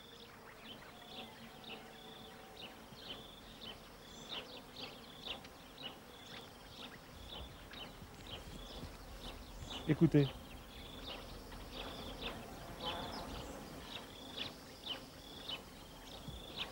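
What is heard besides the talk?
bees foraging on almond tree flowers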